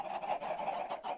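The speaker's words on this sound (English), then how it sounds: "there's about 80 chickens in here" About eighty chickens crowded into a farm in modded Minecraft. They make a brief, steady wash of overlapping clucks at moderate distance, with no talk.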